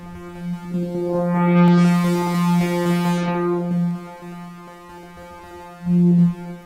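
A droning Sequential OB-6 analog synthesizer note with a resonant filter sweeping up into a bright, buzzy peak, then closing back down, ending with a brief louder swell.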